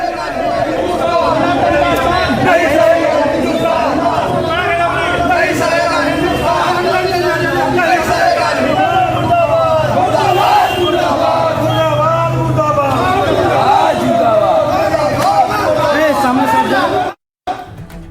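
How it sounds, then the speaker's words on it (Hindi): An angry crowd of protesters in Howrah shouts and chants while burning an effigy of Pappu Yadav, a dense, loud, continuous roar of many voices that cuts off abruptly near the end. "हावड़ा में भी लोग गुस्सा निकाल रहे हैं, पप्पू यादव का पुतला फूंक रहे हैं।"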